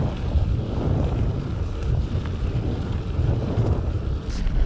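Steady, loud wind buffeting an action camera's microphone on a gimbal outdoors, a continuous roaring rumble that persists throughout without pause and no voices.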